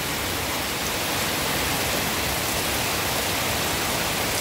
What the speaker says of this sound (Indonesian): Ini jalannya udah mulai tergenang nih, karena debit air dari hujannya lumayan